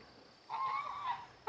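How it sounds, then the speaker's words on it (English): A single goose honks nearby, a drawn-out nasal call followed by a short second honk, with no other sounds around it. "every time I start talking, the geese start acting up."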